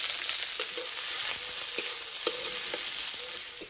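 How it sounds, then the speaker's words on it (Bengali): Onion sizzles in hot oil in a wok, a steady, close crackling fry with small pops and stirring clicks scattered throughout, no talking. "তেলে দেব পেঁয়াজ।"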